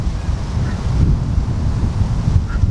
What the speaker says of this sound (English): Wind, isn't it?